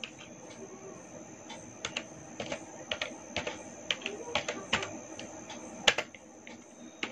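Typing on a computer keyboard, a quiet, irregular run of light key taps with a few sharper strikes, over a faint steady background hum.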